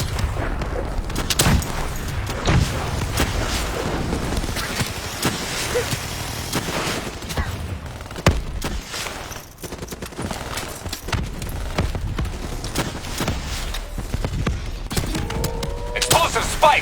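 Rapid gunfire rattles through a Call of Duty Black Ops 3 campaign firefight against a mechanized boss, dense automatic bursts and heavy thuds overlapping continuously at close range, with voices shouting over the din.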